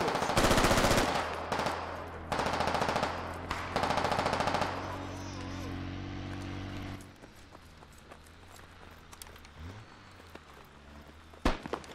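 Machine gun fire in a military combat video game pitting Australian Defence Force against Russian ground forces: three loud, rapid bursts of automatic fire, then quieter clatter, footsteps and a sharp distant shot near the end.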